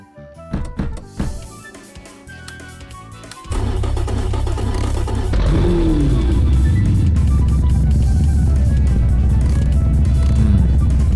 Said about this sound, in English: let's see how fast this Lada with a V8 and rear big wheels can go